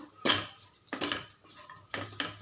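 A utensil scraping and clinking against a metal pot while stirring vada curry, in a few uneven strokes, close and fairly loud, no voices.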